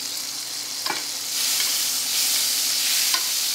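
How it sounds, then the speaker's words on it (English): Garlic and herbs sizzle in a hot skillet with a steady, fairly loud frying hiss, a few soft clicks of stirring scattered through. "You see that sizzle?"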